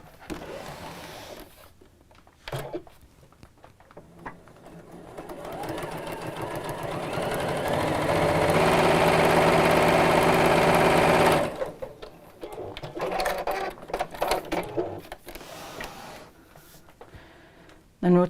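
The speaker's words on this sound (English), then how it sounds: "I'm going to top stitch just across the top edge here" A sewing machine topstitches across the top edge of a fabric Maddy Caddy organiser, its motor whirring up into one long continuous run that stops abruptly, followed by lighter intermittent stitching sounds.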